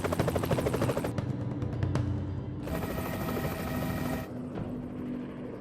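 Helicopter rotor blades thump outdoors in a rapid, rhythmic chop. They are fairly loud at first, then turn into a steadier broadband roar that swells and eases.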